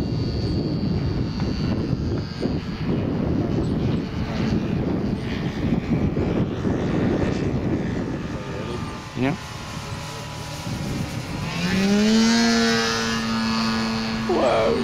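A large-scale electric LMA Genesis model airplane with a Turnigy 6 kW motor flies, its steady whine under outdoor noise and brief talk, then a clear rising-and-falling electric motor tone swells near the end as it climbs.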